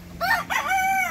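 A rooster gives a short crow near chickens, a brief raspy call that rises and falls over about a second. It sounds fairly close over faint background noise.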